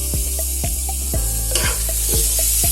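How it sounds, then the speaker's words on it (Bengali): Chopped tomato and onion fry in oil while a spatula knocks against the pan in a regular rhythm, about one stroke every half second, over a steady close sizzle with a brief louder burst midway. "টমেটো কুচিটা দেওয়ার পর আমি আবার একটু নেড়ে ছেড়ে নিব, একটু ভেজে নিব"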